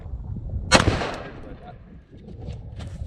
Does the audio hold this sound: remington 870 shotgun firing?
yes